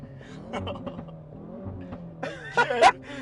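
A Hyundai i30N fitted with a Miltek exhaust revs in short bursts, a steady engine note under a voice giving way to two sharp, louder blips near the end.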